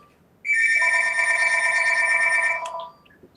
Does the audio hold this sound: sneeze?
no